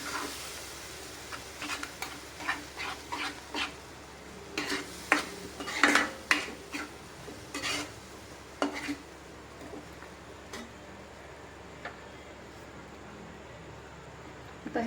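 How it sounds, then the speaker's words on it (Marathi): Sugar stirred in a pan over low gas to melt it for mango rice, soft irregular scraping and clinking of a spoon over a faint steady background hiss, close by and fairly quiet. "गॅस लो ठेवून हे थोडंसं हलवून घ्यायचं आहे, म्हणजे ही साखर वितळेल"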